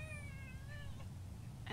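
A cat meows in the video game Scarlet Hood and The Wicked Wood, a short rising and falling cry heard over a steady low background hum, with a brief click near the end.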